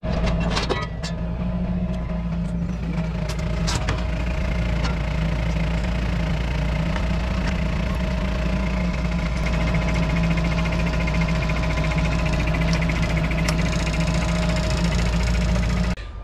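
A farm tractor engine idles steadily nearby, a constant low throbbing drone with a faint metallic hum and a few light clicks, continuous and unchanging for the whole stretch with no talking.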